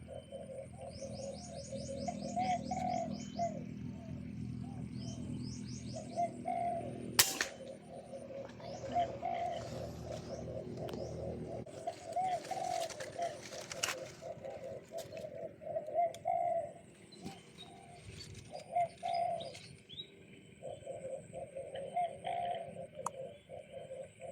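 Birds calling outdoors during a hunt, a dove repeating soft coos through the stretch with scattered chirps and small ticks, moderately distant in a quiet rural setting.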